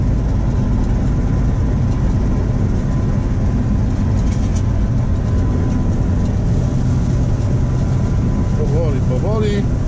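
A New Holland combine harvester engine drones steadily and loudly while harvesting drought-affected wheat, a dense continuous low rumble filling the whole stretch with no break.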